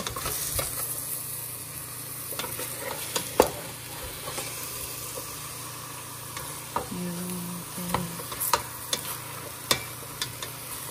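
Food fries in a pan with a low, continuous sizzle while a utensil stirs and scrapes it, giving scattered sharp clicks and taps; nobody speaks.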